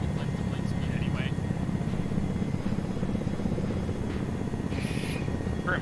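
In ArmA, a helicopter's rotor and engine drone steadily and close by throughout, while voices talk over it.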